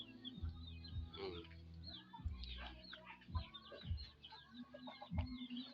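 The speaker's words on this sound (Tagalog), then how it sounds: "Ayan, yung mga manok namin, oh." Chickens cluck and chatter close by, overlapping calls mixed with a few louder squawks and low thumps.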